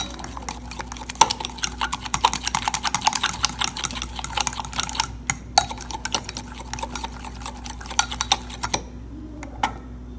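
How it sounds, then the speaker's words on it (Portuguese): A spoon stirs fake cheese bread batter in a bowl, giving quick, rapid scraping and clicking strokes against the bowl in a busy steady rhythm, close and fairly loud, with a brief pause near the end. "Agora eu só vou ficar misturando bem para ele, para desmanchar tudo bem direitinho."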